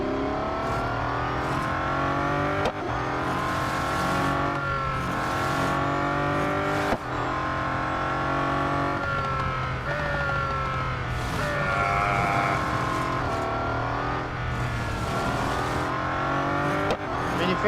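Race car engine in the Real Racing 3 mobile racing game, revving and shifting through gears continuously with loud rising and falling pitch sweeps across the whole stretch, no talk over it.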